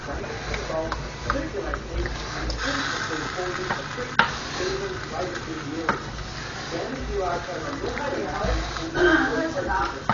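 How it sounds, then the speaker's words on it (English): A spoon stirs food in a sizzling pan, with a steady scraping and frying hiss running throughout while a person talks over it. "And let's stir it."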